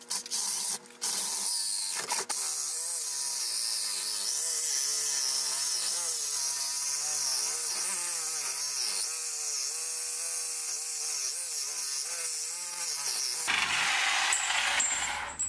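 A metal bumper piece for a Honda Talon UTV is cut while clamped in a vise, giving a loud, steady, continuous sawing or grinding whine that runs for about thirteen seconds before stopping abruptly.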